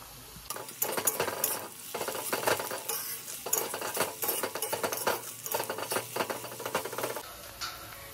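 Beans and carrots are stir-fried in a pan, with a soft sizzle under repeated scraping and clinking of a utensil against the pan in an uneven rhythm.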